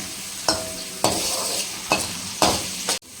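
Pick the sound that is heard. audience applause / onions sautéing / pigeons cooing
onions sautéing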